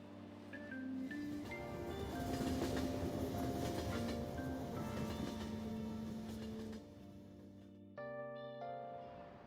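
Train ride ambience in Persona 5 Royal: a steady rumbling carriage with sustained tonal whines and hum over rolling noise, then a brief cut to a quieter tonal passage near the end, no speech.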